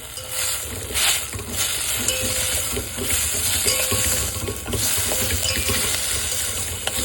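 Vegetables sautéing with salt and turmeric in a pan for sambar, a steady loud sizzle and frying hiss throughout, broken by scraping stirs and light clinks, with no voices.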